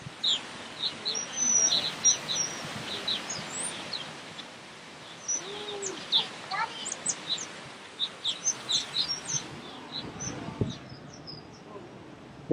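Small birds chirp and tweet in short, bright bursts throughout, scattered high calls repeating at moderate distance over a soft outdoor background, with faint voices occasionally in the background.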